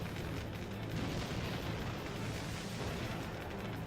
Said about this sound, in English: Please stop shooting me with missiles.